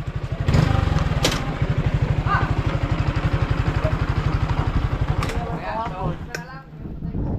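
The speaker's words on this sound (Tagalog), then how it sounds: "Oh, isang motor." A motorcycle engine idles nearby with a steady, fast, rumbling pulse that holds for several seconds before easing off, while people talk over it.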